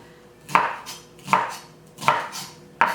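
A knife chops through napa cabbage stalks on a board in four sharp, evenly spaced cuts, close and loud, with no voices.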